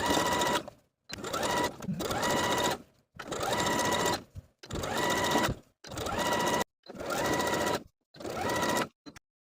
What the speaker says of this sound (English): we're going to top stitch along the top of the pants right along that upper lip of fabric with the same stitch as we used previously